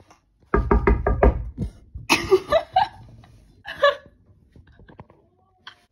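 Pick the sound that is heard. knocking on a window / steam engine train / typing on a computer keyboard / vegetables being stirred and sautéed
knocking on a window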